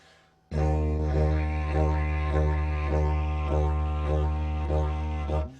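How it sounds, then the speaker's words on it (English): A deep, droning didgeridoo plays a steady bouncing rhythm of repeated pulses, evoking hopping, loud and close with no talking. "The kangaroo is emulated on the didge by this."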